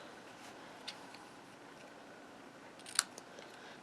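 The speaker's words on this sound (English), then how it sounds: "Now I'm just going to bring my snips in. I'm going to clip this like here." Snips clip cardstock for a stamped butterfly card, two crisp snaps close by, a faint one early and a sharper one later, over a quiet room.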